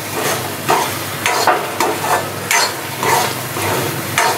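Carrot halwa (gajar halwa), sweetened with cardamom and a pinch of salt, being stirred in a pan: repeated scraping, sliding strokes in a steady rhythm, close and fairly loud, with a soft sizzle underneath and no talking.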